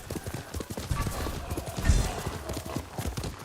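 Horse hooves clip-clop in a steady, close rhythm while riding in a VR video game, with light background noise and no other sounds standing out.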